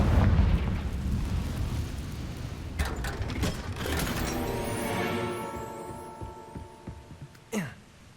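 Confringo blasting curse exploding in Hogwarts Legacy, a deep rumbling boom with a throbbing low tail, then scattered debris clatter and a short descending whoosh near the end.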